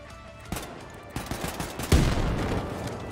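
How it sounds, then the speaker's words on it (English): Gunfire and grenade explosions in the video game Wolfenstein: The New Colossus, with scattered shots building into rapid bursts and a heavy blast followed by dense sustained firing, loud and close. "Yep, they keep throwing grenades at me."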